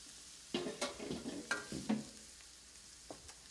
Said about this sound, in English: you just want to get those moving around in the pan, get them well coated with oil